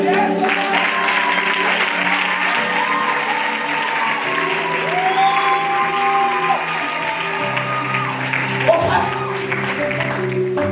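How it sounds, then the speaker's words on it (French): A church congregation applauds at a Sunday service, with steady clapping and crowd noise running the whole time beneath sustained keyboard or organ chords. "Acclamez-vous."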